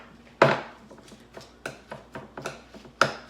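Spoon stirring fresh plain spinach into cottage cheese in a bowl, a series of soft scraping and tapping strokes at an uneven pace, with one louder knock near the start and another near the end.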